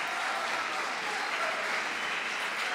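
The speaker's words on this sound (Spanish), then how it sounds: "Bueno, otro aplauso." A crowd claps steadily after a dance performance, a dense, even wash of applause that holds at a constant level throughout with no speech on top.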